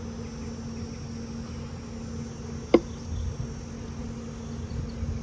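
Honey bees in an opened nucleus colony hum in a steady, faint drone, with one brief sharp tap partway through and no voices.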